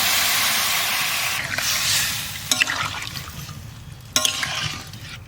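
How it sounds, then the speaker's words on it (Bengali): Water poured into curry cooking on a mud oven in a village kitchen gives a loud steaming hiss that slowly fades, broken by a couple of sharp clatters. "জল দিয়ে দিচ্ছিল তরকারিতে।"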